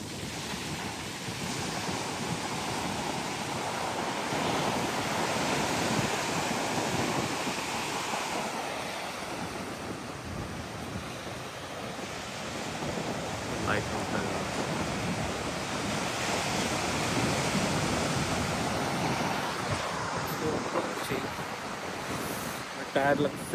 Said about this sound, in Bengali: প্রচুর ঢেউ, আজকে অনেক বাতাস